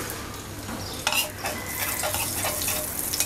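Whole cumin seeds fry in oil in a pan that was just used for frying fish, giving a soft, steady sizzle with light scraping stirs, close and fairly quiet.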